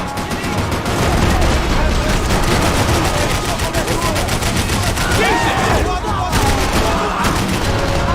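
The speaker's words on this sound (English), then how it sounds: "I can't concentrate with bullets whizzing past my head." Dense, continuous gunfire in the shooter game Max Payne 3, loud overlapping bursts and shots with bullets whizzing past, relentless throughout with voices talking underneath.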